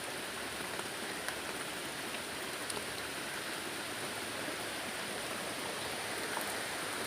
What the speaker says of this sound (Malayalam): ഇവിടെ നല്ല സൂപ്പർ മഴ